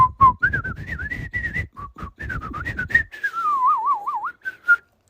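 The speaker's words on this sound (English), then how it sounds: "I'm trying not to whistle too loud" A person whistles a lively, wavering tune with quick trills and slides, fairly close and clear, alone without talking.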